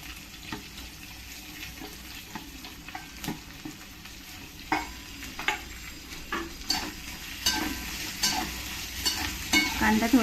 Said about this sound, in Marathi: कांदा थोडा लाल होऊन द्यायचा.